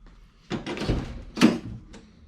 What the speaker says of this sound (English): So, first things first, we need to take the door cards off.